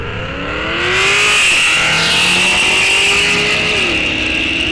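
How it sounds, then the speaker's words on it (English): A 2017 Chevy SS with a 6.0 or 6.2 liter V8 roars loudly and steadily at a drag raceway, its exhaust note climbing through gears as it pulls away, with no talk over it. "Exhaust sound."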